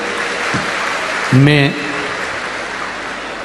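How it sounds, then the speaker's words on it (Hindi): An audience at a live Shiv Mahapuran religious gathering in Kota, Rajasthan claps for the host family, a steady rain-like patter of applause with a short spoken word cutting through midway. "आप सब एक बार यजमान परिवार के लिए जोरदार ताली बजाएं"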